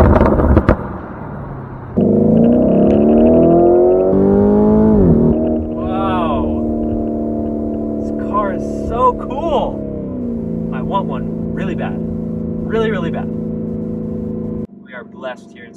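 A Lamborghini Urus engine on a test drive swoops down in pitch, then settles into a loud, steady droning rumble close by, with voices speaking over it before it cuts off abruptly.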